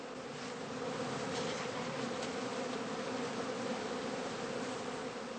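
A dense swarm of honeybees hums steadily around heather skeps in an autumn apiary, a loud, continuous buzz with no voices.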